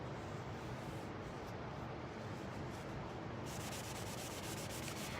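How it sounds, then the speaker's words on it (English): Gilding wax buffed by hand across a surface with light pressure, a steady, even, close-up rubbing hiss that runs without pause. "I'm just kind of just buffing, just like this."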